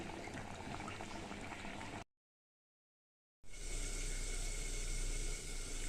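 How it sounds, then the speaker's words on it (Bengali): Bori posto, a Bengali poppy-seed dish with lentil dumplings and sugar, simmers toward a boil in a pan, giving a steady bubbling hiss that cuts out briefly to silence before resuming louder. "একটু ফুটে উঠলেই নামিয়ে নেব।"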